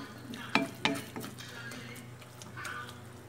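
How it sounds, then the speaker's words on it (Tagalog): Abalone is sautéed in a pan, with a few sharp clanks of a utensil stirring against the metal over a continuous close sizzle and no talking. "gisa-gisa lang siya"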